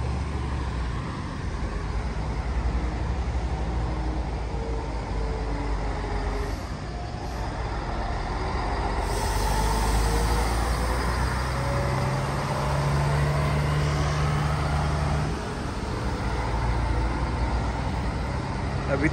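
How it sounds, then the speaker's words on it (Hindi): Steady street traffic on a morning walk in Opatija, with cars and trucks rolling past in a continuous broadband rumble and a passing engine drone, a voice talking faintly over it. "अभी थोड़ा गाड़ी आड़ी चलने लग गई"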